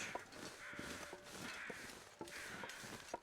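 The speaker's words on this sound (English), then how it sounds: "We're kind of heading where the crows are." Crows caw repeatedly in the wilderness of the survival video game The Long Dark, harsh calls arriving in a loose rhythm of about five bursts, moderately distant over a steady wind-like ambience.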